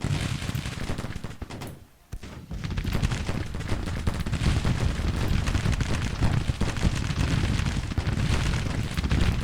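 Union soldiers open fire in the Civil War strategy game Grand Tactician, a loud, continuous rolling crackle of massed musket volleys that briefly drops out before roaring back.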